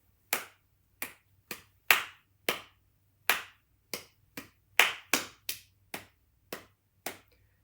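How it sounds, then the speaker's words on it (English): At a piano technique clinic, one pair of hands claps about fourteen times at a deliberately uneven tempo, each clap sharp, close and isolated against near silence, with no crowd joining in. "I'm going to start clapping my hands, and I want you to clap along with me"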